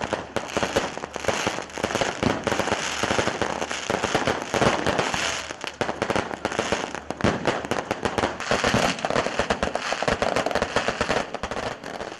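Fireworks at a political rally ground in Islamabad, a dense, continuous barrage of crackling bursts and pops heard from close by, with no talk over it.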